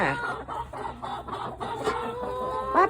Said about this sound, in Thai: เราก็ต้องเลี้ยงไก่ ไก่เลี้ยงกินไข่เองค่ะ